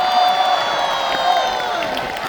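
A concert audience cheering and whooping loudly at a Cantopop show, a dense crowd roar with high shouts that holds steady for a couple of seconds.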